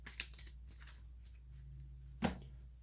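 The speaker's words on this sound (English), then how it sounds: "Then I shuffle my deck" A deck of cards for the Legendary Marvel board game being shuffled by hand, with soft riffling and papery flutters near the start, then a brief louder slap of cards, close and quiet.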